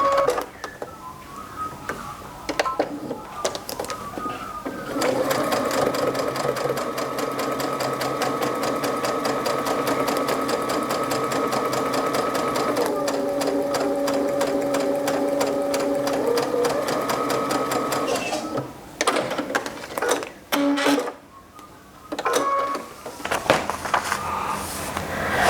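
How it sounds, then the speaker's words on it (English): A sewing machine stitches close to a folded fabric edge for foundation paper piecing, running as a steady, near mechanical whir with a few brief pauses and restarts toward the end, no talk over it. "head over to the sewing machine. So now I'm just going to fold back on line B and sew nice and close to the edge of the fold."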